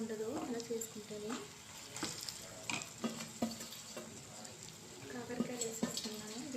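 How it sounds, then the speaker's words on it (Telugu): Onions fry in a pan for a bitter gourd curry, a soft sizzle under intermittent stirring and scraping of a utensil, with a person talking over the cooking. "ఇవి ఉల్లిగడ్డలు అన్నీ సమానంగా వేగుతాయి"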